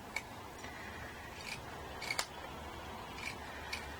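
Scissors snipping along a felt strip, a handful of soft, sparse clicks spread out over quiet room tone, close but faint.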